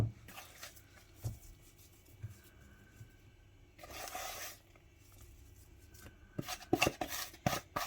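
Uncooked dough is added and worked into a batch of Ga kenkey, producing faint squishy, rubbing and thudding sounds in irregular bursts, with a louder stretch of mixing near the end.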